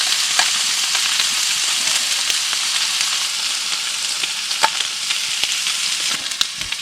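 Sausages frying in coconut oil in a pan at a woodland camp, giving a steady, close crackling sizzle with scattered sharper pops throughout.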